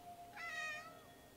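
Cat giving a single short meow, faint and close-ish, rising and falling over under a second against quiet background.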